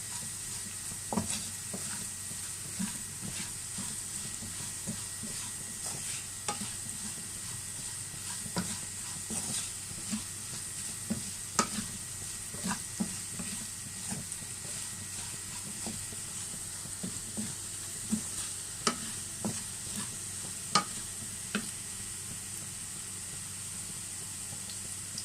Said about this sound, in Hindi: जैसे ही जीरा फ्राई हो रहा है